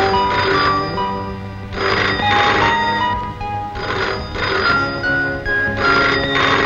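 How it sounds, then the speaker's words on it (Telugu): An old telephone rings loudly and close by in a film scene, repeated bursts of bright ringing separated by short gaps, with no talk over it. "ఫోన్ మోగింది"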